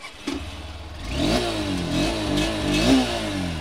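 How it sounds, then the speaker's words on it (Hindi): A Honda Hornet 2.0 motorcycle engine revs repeatedly, pitch rising and falling in several surges, close and loud, with no talking. "अब इस स्पोर्टी बाइक का साउंड सुनाने का टाइम आ गया है और मैं ज़रा आपको साउंड सुना देता हूँ"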